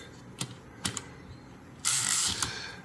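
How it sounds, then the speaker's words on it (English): Metal clicks and ratcheting snaps from the line lock mechanism of an Underwood Portable 3 Bank typewriter being adjusted, a few sharp ticks followed by a louder ratcheting burst, close up with no talking. "Try loosening this other side just a hair."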